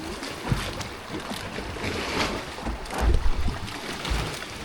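Strong waves churn and slap against a small boat close to a rocky little island, a steady broadband wash of water and wind with a few heavier surges and thumps near the hull.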